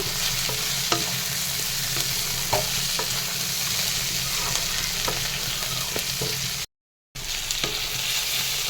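Cashews and raisins frying in oil while being stirred, an even close sizzle with light scraping taps throughout and a brief dropout near the end.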